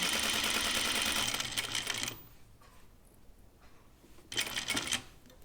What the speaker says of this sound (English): I'm going to sew slow.